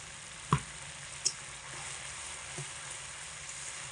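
Green chillies and spice paste sautéing in hot oil for a tilapia curry, a steady close sizzle throughout with a couple of sharp clacks as the spoon stirs the pan.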